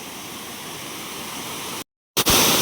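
A waterfall pours down from above near a dam on a farm, a steady close rush of broadband water noise that cuts out abruptly and then resumes.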